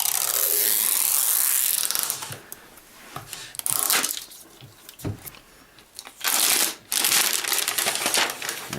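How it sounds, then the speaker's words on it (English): Crinkly plastic rustles and crunches in bursts, with ratcheting zip-like sounds as a pull-zipper opens the plastic wrapper on a new Apple Mac Pro close by. "we have a little zipper here to pull down to release it"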